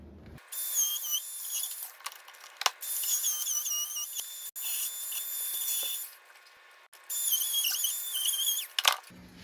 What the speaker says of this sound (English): I'll probably try to get it as close as I can with the little carbide burr on the